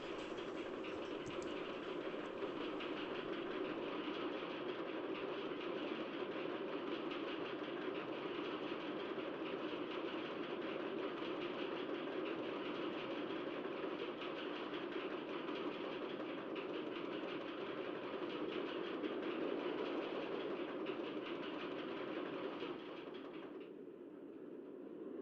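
Roller coaster train on an inverted coaster in OpenRCT2, a steady continuous rumbling rush that holds at an even level for about 23 seconds, then drops slightly near the end, with no talking.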